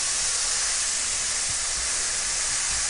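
Diced onion, minced garlic and chopped mushroom stems and gills sautéing in a hot pan, giving a steady, loud sizzling hiss throughout with no pauses.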